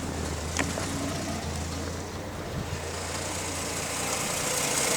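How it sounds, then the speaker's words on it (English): A 1967 Ford Custom V8 with a new cam idles smoothly at about 750 RPM with a low, steady droning hum and faint gear whine, even and unbroken throughout. "can see it idling here smoothly"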